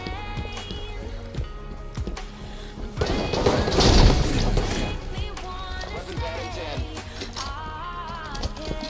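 Rapid bursts of gunfire from the Halo 5: Guardians video game, with clustered shots and a heavy explosion-like surge in the middle, layered with game effects and intermittent speech.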